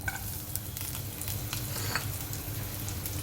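Garlic frying with tempering seeds in hot oil in a pan: a close, dense crackling sizzle with scraping stir strokes throughout, steady and unbroken.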